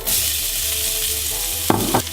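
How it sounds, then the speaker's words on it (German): Onions and garlic hiss and sizzle in a pan at close range, a steady fry joined near the end by two sharp stirring scrapes. "So, jetzt tue ich die Zwiebeln und den Knoblauch anbraten."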